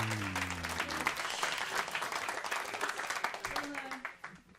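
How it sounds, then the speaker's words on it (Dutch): An audience at a live event claps in a dense, steady burst of applause that fades toward the end, with a few voices and cheers mixed in. "Applaus!"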